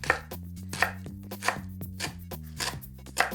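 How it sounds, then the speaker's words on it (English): Blanched mugwort (souk) leaves are chopped with a knife on a board in a Korean kitchen, giving about six or seven close, crisp, evenly spaced thuds over a low music bed. "The next thing I'm going to do is chop up this blanched souk leaves."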